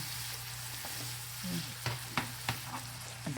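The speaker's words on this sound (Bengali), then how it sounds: "আর একটু পানি দিয়ে কষালে আমার মনে হয় ভালো কষাইতে হবে মশলাটা মিশবে" Masala for a hilsa fish and pointed gourd curry stir-fries in a pan with water added, giving a steady sizzle under several sharp scraping and stirring knocks from a spatula.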